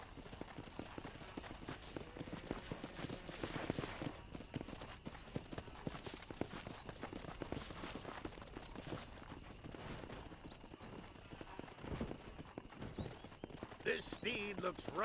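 Horse hooves clip-clop steadily in the Red Dead Redemption video game, a rapid, continuous patter of hoofbeats at moderate volume, with voices talking over them.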